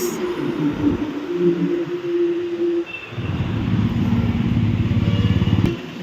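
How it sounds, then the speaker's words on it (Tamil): An SETC state transport bus passes on the highway at Melmaruvathur, its engine drone rising into a loud, close, pulsing rumble as it goes by, with other traffic humming in the background and no speech. "ஆப்போசிட்டில் ஒரு எஸ்சிடிசி பாஸ் ஆகுது"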